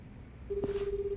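A single steady dial-type telephone tone in the video game Like a Dragon Gaiden comes in partway through and holds clearly to the end, with a brief click as it starts.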